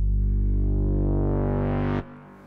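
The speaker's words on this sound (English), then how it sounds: "I'm then going to bring in a more sort of analog form of distortion." Solo synth in Logic Pro X through analog-style distortion, a thick, loud harmonic drone that rises and brightens over two seconds before abruptly dropping to a faint decay.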